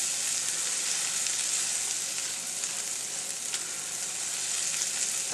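Egg mixture sizzles in melted butter in a pan for breakfast tacos, a close, even, continuous hiss with faint crackles and no speech.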